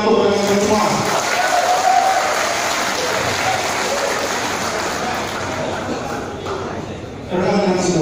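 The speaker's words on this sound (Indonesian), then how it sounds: "Tepuk tangan untuk rekan-rekan semua." Applause from a crowd gathered at an alumni reunion, a broad continuous patter with a voice heard briefly at the start and again at the end.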